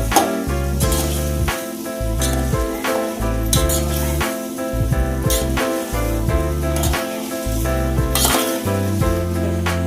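Bottle gourd fries in oil in a home kitchen pan while a utensil stirs it, giving repeated metallic clinks and a light sizzle over steady background music.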